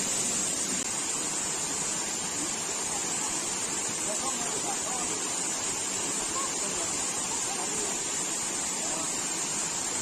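A waterfall in Shivapuri National Park near Kathmandu roars as a loud, steady, broadband rush of falling water with no breaks. Faint speech sits beneath it.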